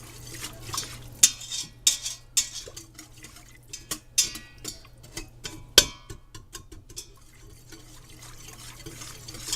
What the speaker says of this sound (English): get a whisk and let that cook until it reduces